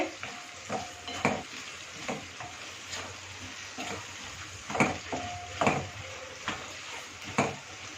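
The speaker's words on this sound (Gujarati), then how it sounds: "સિંગદાણાને મુએ ફૂટી અને કોતરા કાઢીને રાખ્યા છે એ પણ આપણે સાથે બટાકાની સાથે ફેરવી દઈશું" Fried peanuts and potatoes being stirred in a pan for sabudana khichdi, a soft continuous sizzle broken by repeated scraping strokes of a spoon, some sharper clinks, with no talking.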